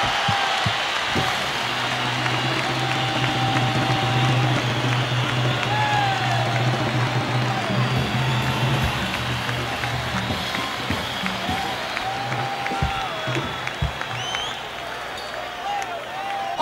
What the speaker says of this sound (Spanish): un fuerte aplauso para el único, el tremendísimo